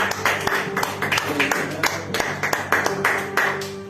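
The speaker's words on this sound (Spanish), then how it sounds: "Vamos a darle un aplauso al Señor." Church congregation clapping in unison during a Spanish-language service, steady rhythmic claps over sustained organ or keyboard chords, with voices mixed in.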